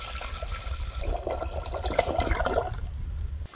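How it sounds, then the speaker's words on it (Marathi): Unsalted mutton broth poured into a pot of hot ghee with cumin, a steady splashing gush of liquid lasting a few seconds, close and alone. "आता आळणी पाणी ओतून घेऊया।"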